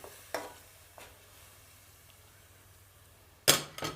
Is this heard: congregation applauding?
no